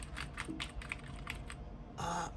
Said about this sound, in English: Now, I'm typing away gibberish.